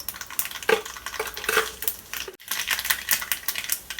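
A teaspoon of mustard seeds splutters in about two teaspoons of hot coconut oil, giving rapid, crackling pops and tiny bursts close by, irregular and busy, with no talking.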